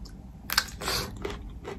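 Someone chewing fresh fruit up close, with juicy crunching bites coming in a few separate bursts and quiet gaps between them.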